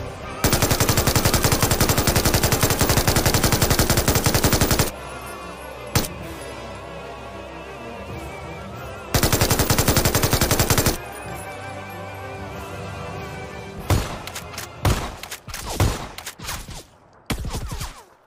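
MG3 machine gun from a PUBG crate fires in two long, dense automatic bursts, loud and relentless, separated by quieter gameplay noise, then scattered shorter shots and impacts toward the end.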